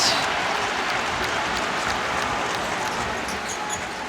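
Basketball arena crowd roaring during a Big Ten men's game between Illinois and Rutgers, a dense, steady wall of cheering and noise that holds throughout with only slight variation.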